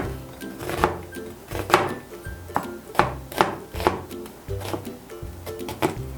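A knife chops lengthwise through a quarter onion on a cutting board, each stroke landing with a sharp knock in an uneven, steady rhythm of about a dozen cuts, close and clear with no talking.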